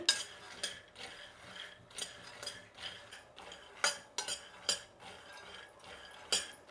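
Black gram roasting in a hot kadai over low heat, stirred with a metal spoon: irregular scraping and clinking strokes against the pan, close and fairly quiet, with no talk.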